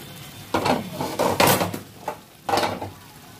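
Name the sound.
chicken being sautéed in spiced masala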